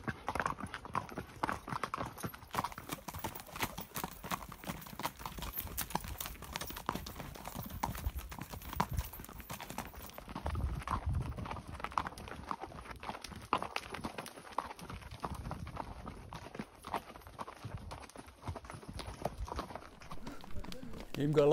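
Rapid rhythmic hoofbeats of a horse galloping uphill in the Sierra Nevada mountains, close and continuous, with rider breathing and occasional talk mixed in.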